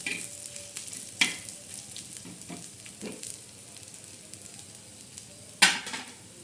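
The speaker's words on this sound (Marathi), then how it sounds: "असा चांगला खरपूस असा चांगला भाजून घ्यायचा" Masala for a brinjal curry roasts in a pan, sizzling softly up close while a utensil stirs and scrapes, with occasional sharper metallic knocks and one louder clank near the end.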